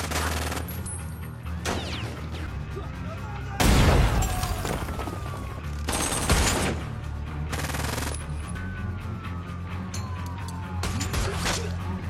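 A shootout in the film Riot, with bursts of machine-gun fire and heavy booming shots in loud clusters separated by quieter stretches, with a voice speaking over it.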